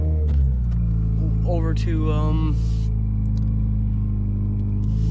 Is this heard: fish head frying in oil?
no